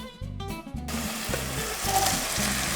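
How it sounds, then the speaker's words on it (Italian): Steady sizzling of eggs and herbs frying in a hot pan, continuous and close, with a few light clinks of a utensil near the start. "Vedete come frigge già?"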